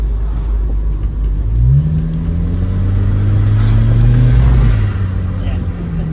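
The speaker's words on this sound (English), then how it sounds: "Yeah, just doing a rolling burnout." Volvo 240 Turbo wagon doing a rolling burnout, a loud, close engine drone that rises in pitch as the revs climb, holds, then drops back, with tyre noise underneath.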